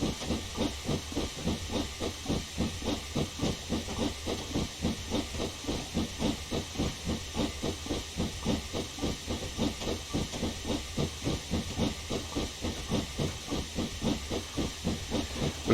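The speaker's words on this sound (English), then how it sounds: "are now having to blow steam off again" A BR Black 5 steam locomotive in Train Simulator Classic, running from Falmouth to Truro, blows off steam. A loud, continuous hiss sits over a steady, rapid chuffing rhythm throughout, with no talking.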